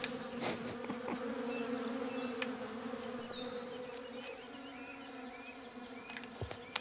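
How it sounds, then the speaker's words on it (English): Bees buzz steadily in the video game Above Snakes, a continuous drone with small swells as insects pass near, alone without talk and ending in a couple of soft clicks. "I am glad these bees are not attacking me."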